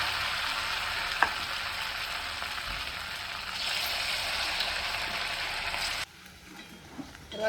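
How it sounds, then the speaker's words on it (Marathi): Sabudana and potato pakodas frying in hot oil, dropped in one by one, giving a steady close bubbling sizzle that cuts to quieter kitchen sounds near the end. "गॅसवर तेल पण ठेवलं आहे तापायला तर आता एक एक शाबूचे पकोडे मी असं गोल गोल करून सोडून घेते"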